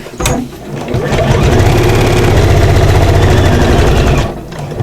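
Sewing machine stitching a fabric pocket: a loud, close, steady whirring drone that runs continuously for about four seconds, with a brief click before it starts and a quick wind-down at the end.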